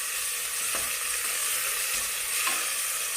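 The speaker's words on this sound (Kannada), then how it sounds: "ಇದನ್ನು ಹಾಕೊಂಡು ಹಸಿ ವಾಸನೆ ಹೋಗೋವರೆಗೂ ಚೆನ್ನಾಗಿ ಫ್ರೈ ಮಾಡ್ಕೋಬೇಕು ಇದನ್ನೆಲ್ಲ." Onion, green chilli and ginger garlic paste frying and being stirred in a pan for egg biryani, a steady close sizzle broken by a few scraping stirs, with no voices.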